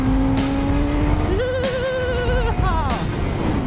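A 2018 Suzuki GSX-S1000 naked motorcycle without a quick shifter lapping a race track, its loud, close engine note climbing steadily and then stepping through gear changes in quick succession.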